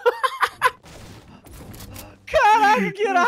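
A cannon fires in the Fortnite video game, with a burst of sharp game blasts at the start, followed by quieter noise and then excited voices talking.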